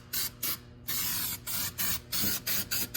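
Short bursts of weld-through primer sprayed from an aerosol can onto a rusty Porsche chassis, about eight quick hissing puffs in an uneven rhythm, close and clear with no talk.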